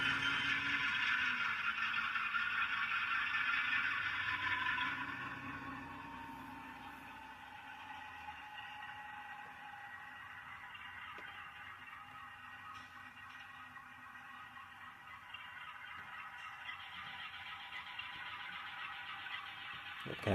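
An ALCO RS1 diesel locomotive runs steadily while switching on the B&O Warsaw industrial branch. Its engine is a continuous droning rumble that softens slightly after the first few seconds and holds steady, with no voices.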